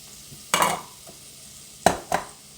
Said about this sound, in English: Alright, so we're just going to saute the onions and celery